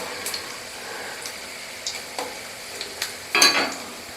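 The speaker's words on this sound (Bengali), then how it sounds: "আমি ভাজতে থাকি" Spicy Kurkure-style snack fries in hot oil, a faint steady sizzle broken by scattered stirring clicks and a louder spattering scrape near the end.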